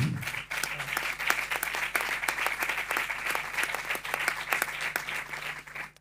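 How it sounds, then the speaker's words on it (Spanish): Audience applauding at an international flamenco education congress, many hands clapping in a brisk, even burst that stays loud for several seconds in a hall. "pido otro fuerte aplauso para él"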